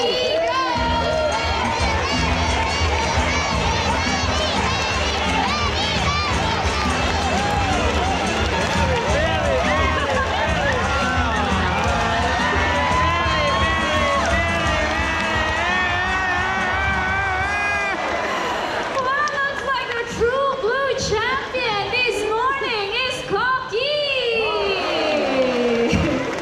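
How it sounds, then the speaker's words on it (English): A crowd of spectators cheers and shouts loudly at a macaw bird show, with children's whoops and voices; the sustained roar eases near the end, giving way to scattered yells and talk. "Barry supporters, come on guys, you have to cheer much louder"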